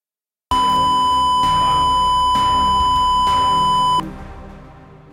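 Steady electronic beep tone sounding continuously and loudly during real-time bouncing in audio software, holding for about three and a half seconds before cutting off abruptly into a faint lingering tail.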